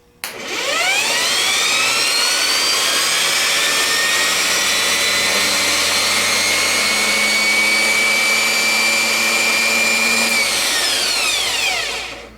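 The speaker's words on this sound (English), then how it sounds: "we're just going to give it a spin with the hot post" A rebuilt 39MT starter motor spun on a jump box whines steadily for about twelve seconds, a loud high-pitched electric spin with a rising pitch at the start and a falling one as it winds down.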